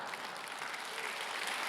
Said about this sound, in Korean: 교인들이 박수하잖아 봐.